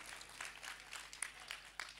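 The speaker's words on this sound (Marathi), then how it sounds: "एकदा जोरदार टाळ्या आप्पांसाठी झाल्या पाहिजे." An audience at a bhajan event, held for a saint's birth anniversary celebration, claps steadily. The applause sounds faint and distant.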